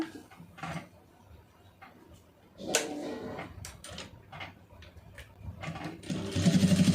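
A sewing machine stitching fabric, with scattered light handling clicks and taps giving way to a close, rapid, rhythmic stitching chatter near the end.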